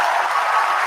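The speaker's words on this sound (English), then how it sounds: "round of applause." A brief round of applause and cheering from a soundboard, a steady dense clatter of clapping lasting under a second, loud and alone.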